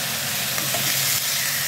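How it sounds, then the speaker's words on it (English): Pork chops pan frying until crispy give off a steady, close, dense sizzle with a constant hiss and faint crackle throughout, no voices over it. "we're going to be pan frying the pork chops for about 5 to 6 minutes"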